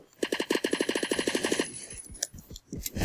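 Rapid automatic gunfire in a shooter video game, a fast even burst of about a dozen shots for over a second, then a few scattered heavier shots and impacts, close and loud.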